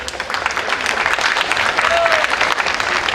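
A crowd at the Abissa festival breaks into continuous, dense clapping, close and fairly loud, with voices mixed in beneath the applause.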